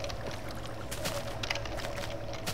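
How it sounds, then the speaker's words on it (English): A small waterfall flows in the Minecraft video game, a constant splashing pour with brief brighter bursts of spray, close by and with no talking. "there's a cool little waterfall right here"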